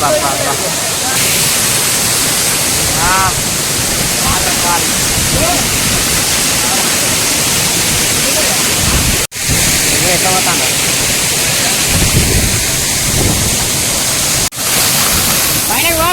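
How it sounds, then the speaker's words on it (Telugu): Loud, steady rush of a waterfall in Mancherial fills the whole stretch, a dense roar with people talking faintly beneath it. "పైన చూద్దాం ఒకసారి వాటర్ ఫ్లోయింగ్ ఎట్లుందా వా విశాల్"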